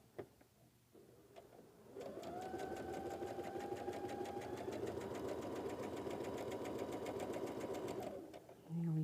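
Sewing machine stitching quilt block pieces in a chain, running as a steady mechanical whirring hum for about six seconds after a few quiet handling clicks, then stopping.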